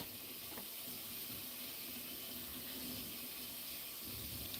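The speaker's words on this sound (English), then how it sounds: "My son is washing the dishes. Oh, you hear the water in the background?" A kitchen tap runs steadily in the background of a home while dishes are washed, giving an even watery hiss throughout with faint clinks.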